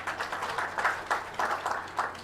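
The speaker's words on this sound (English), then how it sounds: "big round of applause for him." An audience claps for Dr. Tomohiro Ueda at the GIBS 2018 ceremony, a sparse and loose patter of hands with a few sharper claps standing out, then tapering off.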